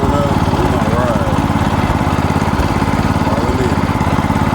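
A Yerf Dog go-kart's small engine running after carburetor cleaning and clutch repair, a loud, steady rapid chugging drone close up, shaking hard, with nothing else over it.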